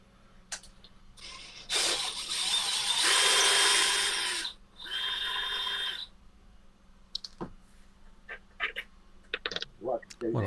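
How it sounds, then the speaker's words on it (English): A Dremel rotary tool whines in bursts while cleaning up chrome motorcycle parts in a workshop, two loud grinding passes followed by scattered clicks and handling noises. "These chrome bits, clean them up with the Dremel."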